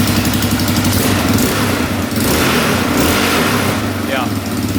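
A worn-out $3,000 quad ATV that a seller gave up fixing fires up and revs hard to its limit, a loud steady engine roar filling the whole stretch with rough mid-pitched drone and brief dips between revs.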